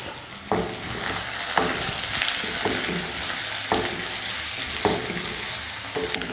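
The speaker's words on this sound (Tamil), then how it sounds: "எண்ணெய் காஞ்சதுமே கடுகு உளுந்து, கடுகு பொரிஞ்சதும் கருவேப்பிலை, வெங்காயம்," Mustard seeds, curry leaves, onions and green chillies crackle and sizzle in hot oil, a dense continuous hiss with periodic stirring knocks and scrapes at close range, no voices over it.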